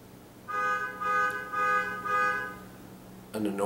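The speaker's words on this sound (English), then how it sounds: "an annoying car alarm" A car alarm sounding in repeated electronic tone bursts, four steady pulses in an even rhythm, moderately loud against a quiet hum, followed by a brief noise at the end.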